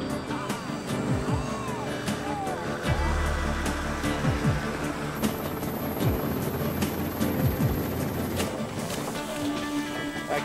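A helicopter flies overhead during a giraffe capture in the African bush, its rotor drone steady and loud throughout, with a deeper engine rumble joining midway.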